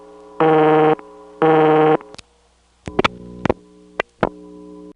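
Low steady hum on a 1977 Bell #355 step-by-step telephone line in Batesburg SC after a coin return, sitting under two loud buzzing tone bursts and several sharp relay clicks, then lingering faintly alone.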